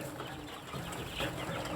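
A coop of twenty to thirty backyard chickens clucks faintly and steadily, the soft calls blending into a low, distant murmur with no talk.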